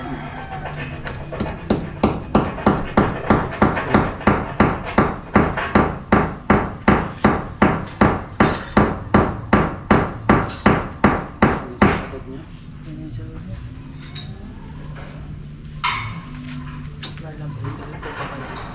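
A hammer strikes repeatedly in a steady, fast rhythm, around thirty loud close blows in a row, then stops as people talk over a busy background.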